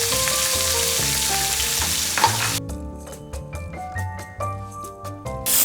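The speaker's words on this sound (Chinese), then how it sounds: "在锅里炒香，炒出花椒和辣椒的香味" Sichuan peppercorns and dried chilies stir-fried in a wok for a spicy Sichuan duck-tongue dish give a steady close sizzle, with background music over it in the second half.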